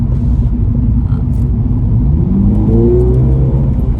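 A loud, throaty hot hatch engine rumbles close by on a track, then revs up with a rising growl near the end; no talking.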